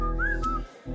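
A person whistles a short tune close by, a clear sustained tone that bends up and then settles before stopping abruptly, with no talk over it.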